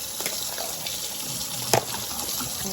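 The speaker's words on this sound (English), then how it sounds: "So let me just wash off my fruit right quick." A kitchen tap runs steadily into a sink as pomegranate and berries are rinsed under it, a close, even stream of water with one brief splashy burst midway.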